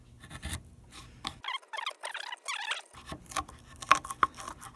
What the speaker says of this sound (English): just get my chisel in there and just let it pick up some of that material at the bottom